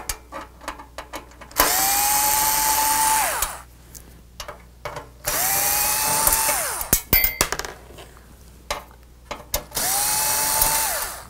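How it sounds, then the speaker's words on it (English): A power drill backs four screws out of a board on a Rock-Ola Jump Bug pinball machine during restoration, in three loud whirring bursts that rise and then wind down, separated by quieter pauses with small clicks. "let's take these four screws off."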